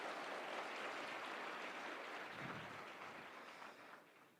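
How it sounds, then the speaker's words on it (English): An audience of Nairobi School students claps for Musalia Mudavadi in Westlands, a faint, diffuse wash of applause that holds steady, then gradually fades toward the end. "Pacherians, a clap for Mudavadi"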